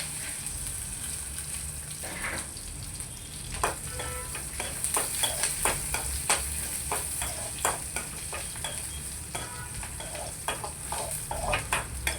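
Curry leaves tempered in hot oil for a crab curry, a steady close sizzle with rapid crackles and pops scattered throughout, no talking over it.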